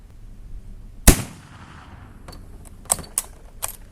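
A .308 rifle loaded with black powder fires a single loud, sharp shot that rings out and decays, followed by several fainter, brief clicks and taps, with no voices.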